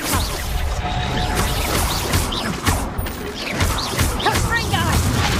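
A Reducto curse lands during a Hogwarts Legacy duel, where impacts crash and clatter in quick succession over a dense, busy combat din. Scattered voice fragments and grunts come through the chaos.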